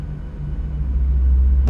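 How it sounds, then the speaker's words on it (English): Engine number one of an Aerosoft CRJ regional jet starts up in a flight simulator game, a low rumble that builds steadily in strength, with a brief voice cutting in at the end. "Start up engine number 1."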